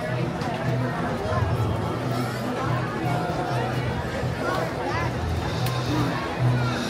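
Dense crowd chatter fills a busy Toontown area at Disneyland, a constant close babble of many overlapping voices with footsteps and bustle, and no single speaker standing out.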